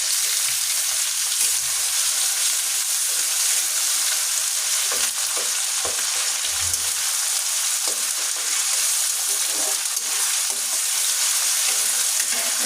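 A ginger and cumin paste masala fries for a raw jackfruit curry, hissing in a steady, loud sizzle close by, with a few soft stirring knocks through it.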